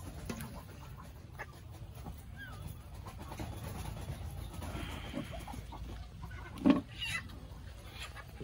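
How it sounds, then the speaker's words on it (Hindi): A black Kadaknath chicken at a resort clucks softly amid quiet outdoor ambience, with a few scattered calls and one brief louder squawk near the end. "अभी आप लोग को दिखाते हैं कड़कनाथ मुर्गी"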